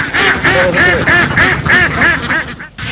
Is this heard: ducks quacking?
yes